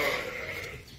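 A gimmer sheep in a lambing shed at Incheoch Farm gives a sustained, close bleat lasting about a second, steady in loudness and tailing off slightly at the end.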